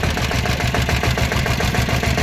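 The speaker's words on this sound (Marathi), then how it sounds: "सर्वात खास इतकी ओल्डेज बाईक असल्यावर त्याचं इंजिन बघा" Continuous loud, steady rumble of an old diesel motorcycle engine running at idle nearby, with a low, even thumping throb and no talking.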